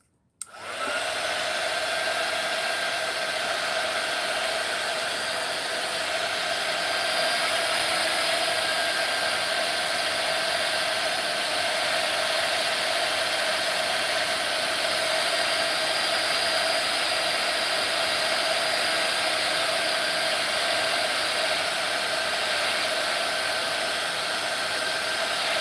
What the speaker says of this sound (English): I'm using the heat tool. Cover your ears.